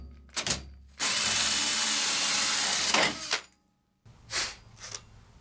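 A power drill spins a 2.5-inch hole saw through material while an oil cooler is fitted to a Nissan 350Z. A brief whir comes first, then a loud, close two-second grinding cut, followed by short bursts of the drill.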